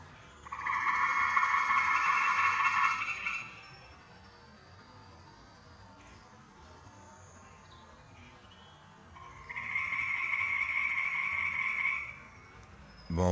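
Frogs trill in two long, loud bursts separated by a quieter stretch, a steady buzzing chorus heard outdoors.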